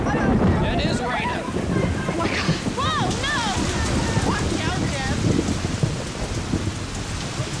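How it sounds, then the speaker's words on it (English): Steady rain falls outdoors on a farm, a dense, continuous hiss of drops that runs the whole time, with voices talking underneath. "It is raining."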